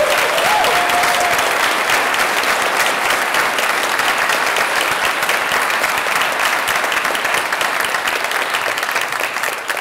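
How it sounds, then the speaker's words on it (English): Sustained audience applause at a tech conference session for a girls' coding program, loud and dense, continuing steadily throughout with no talk over it. "I think they deserve a round of applause."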